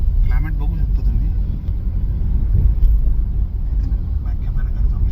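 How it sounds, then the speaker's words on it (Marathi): A car driving on roads near Satara, a steady low engine and road rumble running throughout beneath someone talking from the driver's seat. "मी आपला गाडी चालवत तुमच्याशी बोलतोय"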